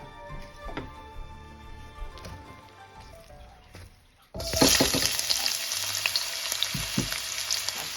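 Prawns hitting a hot pan with onion, garlic and ginger for a curry stir fry: quieter stirring and clatter first, then a sudden loud, continuous sizzle that holds to the end, close up, with no talk.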